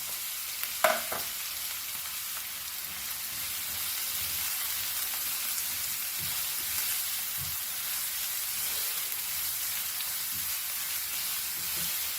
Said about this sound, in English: let the onion go. Very simple, very easy. And fry this very nicely.